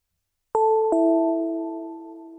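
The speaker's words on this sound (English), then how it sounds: "They're pressing the bell" Doorbell at a spaceship ramp: a two-tone electronic ding-dong, two clear struck chimes a fraction of a second apart, ringing out and slowly fading in quiet surroundings.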